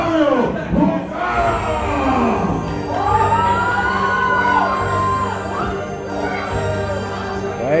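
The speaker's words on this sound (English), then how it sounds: "And the crowd will let him have it here" A large wrestling arena crowd roars continuously at a wrestler's entrance, mixing cheers, boos, whoops and shouts into a dense, loud wash with no break.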